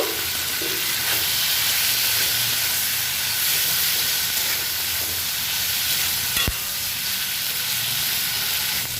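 Prawns sizzle and fry in a pan with coriander leaves, a steady bright hiss that runs unbroken and close by, with faint stirring scrapes and one sharp clink partway through.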